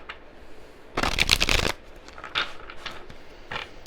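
Tarot cards being shuffled up close, a loud riffling burst of about three-quarters of a second followed by a few lighter card flicks and slides.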